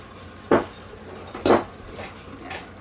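A dog whimpering in a home kitchen while scones are being made: two short, fairly loud whines about a second apart, then a fainter third, over quiet room noise.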